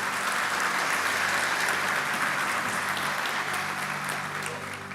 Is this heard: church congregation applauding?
yes